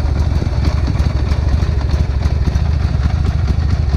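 A Harley-Davidson Sportster motorcycle engine idles close by, a loud, steady, lumpy low rumble with an even rapid pulse throughout and no voices.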